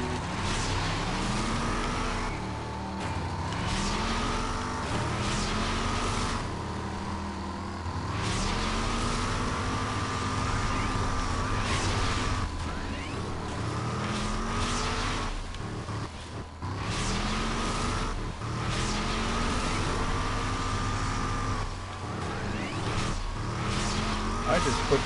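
The Cuprino car in the game Rage driving hard, engine revving up and down in repeated rising sweeps as gears shift, with tire squeal and a voice talking over it at times.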